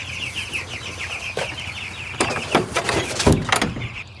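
Chickens cluck steadily at close range and then break into bursts of loud wing flapping and scuffling, with no talking over them.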